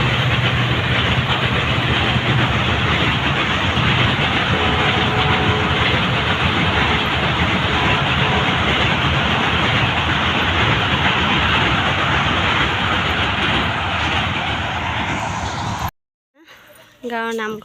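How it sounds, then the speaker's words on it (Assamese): A train passes close by near a village, as a loud continuous rumble and rattle of rail cars that holds steady for about sixteen seconds before cutting off abruptly. "এইফালে ট্ৰেইনখন"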